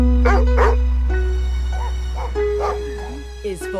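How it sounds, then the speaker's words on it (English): A cartoon-style dog voices a few short barks and whimpering yips over a steady musical backing in a children's alphabet song, the yaps coming in bursts near the start and again later. "D is for dog, with a wagging tail salute"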